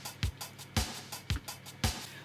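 A Linn drum machine pattern in an Eighties pop groove, with kick and snare hits under steady hi-hats whose alternate strokes are accented, giving a syncopated, fairly quiet loop.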